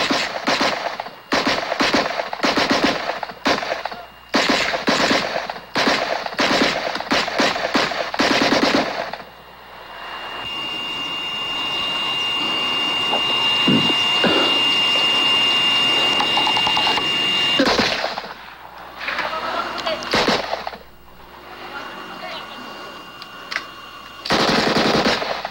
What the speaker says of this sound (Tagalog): Ang sumunod, putok na ng mga machine gun.